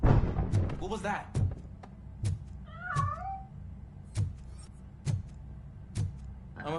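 A cat meows once in the video game RoboCop: Rogue City, a short, clear rising and falling cry. Heavy footstep thuds fall at a regular pace, and someone speaks briefly at the start.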